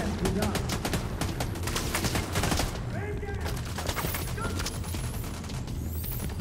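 Rapid bursts of DMR rifle fire in the shooter game The Division 2, loud and close, repeating in quick volleys through the first half and then thinning to sporadic shots over ongoing game noise.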